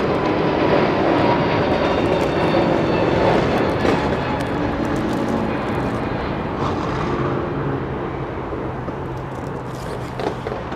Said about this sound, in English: Lovely old A330 as well